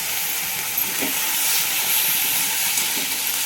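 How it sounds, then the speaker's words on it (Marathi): Moth beans sautéing in hot oil with turmeric and garam masala give off a steady, even sizzle and hiss close by. The sound stays continuous throughout, with no talking over it. "पण आपण ह्याचं फक्त परतून मी घेते तेलामध्ये"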